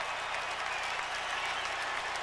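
A college football stadium crowd of 103,000 at Tennessee versus Georgia roars and applauds in a steady, dense wall of cheering with no clear talk over it.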